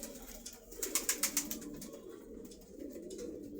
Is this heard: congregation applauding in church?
no